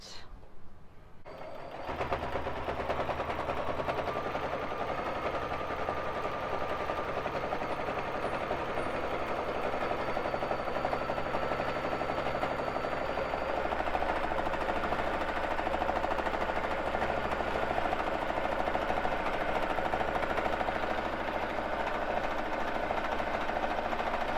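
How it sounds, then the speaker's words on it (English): A Baby Lock Jazz II sewing machine runs continuously for free motion quilting on a frame, a steady rapid mechanical whir and vibration that starts abruptly and holds throughout. "we're gonna come over here and quilt in this space a little bit"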